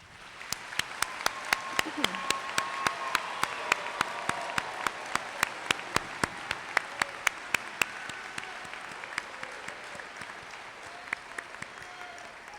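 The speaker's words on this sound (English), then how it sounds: "please join me in giving the 400-plus graduates of the Norristown Area High School 146 class a round of applause" Applause for more than 400 graduates at a high school commencement, a broad crowd wash of clapping with sharp individual claps standing out near and loud, gradually thinning toward the end.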